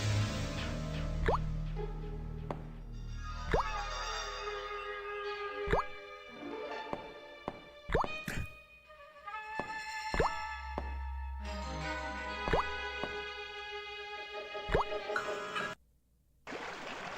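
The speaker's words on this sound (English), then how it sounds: "I hear the sound of water." Water dripping in the survival horror video game Doctor Hauzer, heard as scattered plopping drops at an irregular pace over a sustained ambient game drone, with no talking.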